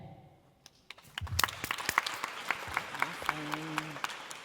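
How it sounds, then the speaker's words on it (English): Audience at a business summit in a university venue breaks into applause after a brief moment of talk, the clapping building quickly into a dense, lively ovation with sharp individual claps standing out near the microphone. "Can we give one more round of applause for our whole Bail team?"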